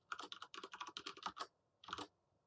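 Rapid typing on a computer keyboard while coding, in two close bursts of clattering keystrokes, a long quick run followed by a short pause and a brief second flurry.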